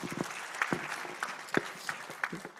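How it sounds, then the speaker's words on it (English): A conference audience gives brief, sparse applause, with a few scattered claps heard in a room and some quiet voices among them. "give them a round of applause."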